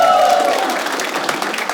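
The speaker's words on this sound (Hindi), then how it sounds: "एक बार कैशिफाई के लिए तालियां हो जाएं" An audience on a comedy judging show breaks into applause, a dense burst of clapping heard close and fairly loud, with a voice briefly audible at the start.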